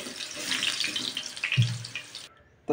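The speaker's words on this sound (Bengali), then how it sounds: "আমার চালটা এখন আমি জল ঝরিয়ে নেব" Water from parboiled rice being drained off in a home kitchen, a steady pouring splash that runs for over two seconds, then cuts off, with no talking.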